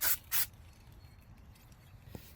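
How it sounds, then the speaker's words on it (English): Two short hissing bursts of brake cleaner sprayed onto a Hyundai Tucson rear wheel hub mating surface during a brake pad and rotor job, close and loud at the start, followed by quiet shop background. "spray it down with some brake spray"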